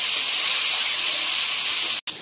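Crab pieces marinated overnight in masala fry in hot oil, a loud, steady broadband sizzle and hiss that holds unbroken before a brief cut near the end.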